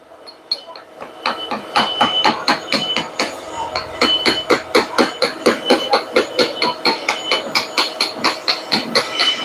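A hammer chips slag from a fresh weld on a steering rod, giving rapid, regular metallic knocks close by that speed up into a steady rhythm.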